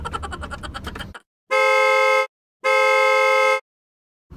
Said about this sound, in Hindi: तू सड़क पे हॉर्न क्यों बजा रहा है?